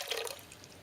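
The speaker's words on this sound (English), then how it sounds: "we're gonna take the butter and the milk liquid and pour it down with the yeast, so the yeast dissolves." Butter and milk liquid being poured onto yeast in a bowl while making traditional Swedish cinnamon buns, a short, soft watery pour and trickle that fades after a moment, with no talking.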